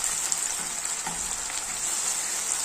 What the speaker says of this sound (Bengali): পেঁয়াজটা মোটামুটি আমার ভাজা হয়ে গেছে